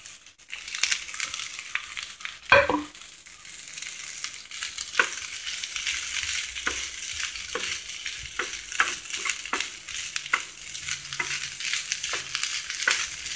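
Ivy gourd and crushed coconut are stir-fried in a pan, with a soft continuous sizzle, a sharp scrape near the start and regular spoon stirs and taps recurring every second or so.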